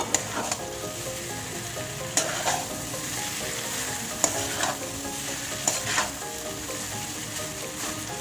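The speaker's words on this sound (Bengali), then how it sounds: "সব চাউমিনগুলো একসঙ্গে সব মিশিয়ে নেব।" Chow mein stir-fried and tossed in a hot pan, a continuous close sizzle punctuated by repeated scraping and clanking strokes of a utensil against the pan every second or so.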